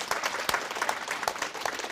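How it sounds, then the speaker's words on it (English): Audience applause for panelists at a summit, a brief spell of moderately quiet clapping with a few sharp individual claps standing out. "Let's give them a round of applause."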